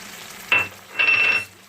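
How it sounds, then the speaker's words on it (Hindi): Ginger garlic paste hitting hot oil and meat in a pan of curry, a short hiss followed by a longer sizzling burst, close and fairly loud. "मैं इसमें जिंजर गार्लिक पेस्ट डाल दी"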